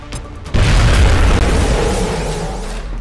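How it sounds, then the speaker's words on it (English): A grenade blast tears a hole through a wall in XCOM Enemy Within, a loud, deep boom that hits suddenly and then rolls on as a sustained rumble to the end. "And we've blown a hole in the wall"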